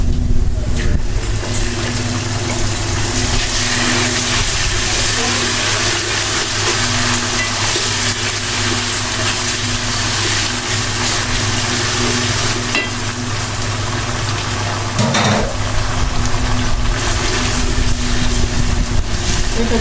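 Spice paste fries in a pan for Bangladeshi hotel-style chana dal bhuna, a loud, continuous close sizzle with stirring scrapes that briefly dips about three quarters of the way through.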